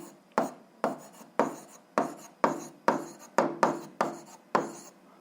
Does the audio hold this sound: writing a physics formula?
yes